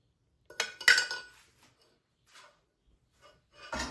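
A metal utensil clinks and scrapes against a bowl while mixing liquid milk bread ingredients with butter and yeast, in a few short, close clattering bursts separated by quiet pauses.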